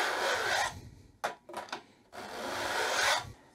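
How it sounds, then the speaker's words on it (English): A metal file rasps across the teeth of a handsaw being re-toothed, in two long steady strokes separated by a few short scraping passes, close and loud with no talking. "we run the file through like this"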